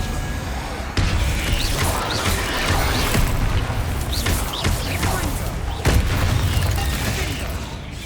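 Booming blast and crash sounds from spellcasting in Hogwarts Legacy, with thuds and a sharp impact near the end over a continuous rumbling battle bed; a voice speaks occasionally amid the noise.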